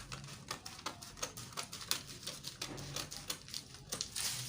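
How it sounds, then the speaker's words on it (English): Scissors snipping through fabric to cut the back piece of a shirt pattern, a quick irregular series of close, crisp clicks and cuts without talking. "Then remember you have to cut the back first."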